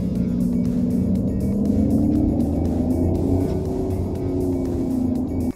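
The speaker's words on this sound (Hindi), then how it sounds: "स्पेसशिप जैसा साउंड करता है।" A Kia EV6 electric car plays its synthetic dynamic drive sound while moving, a loud, continuous spaceship-like hum with gliding tones over steady road rumble, with no one speaking.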